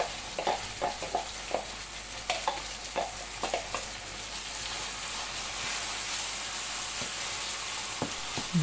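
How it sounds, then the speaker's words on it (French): Tomato and a blended mixture hit a hot pan for sautéed salt cod with three-colour peppers, giving a steady close sizzle broken by soft stirring scrapes and clicks throughout. "J'ajoute la tomate et tout ce que j'ai mixé."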